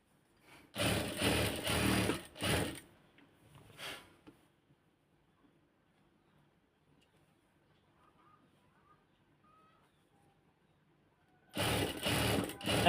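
A sewing machine stitches fabric piping in a few short whirring bursts, near and loud, then falls quiet for a long stretch before another burst at the end.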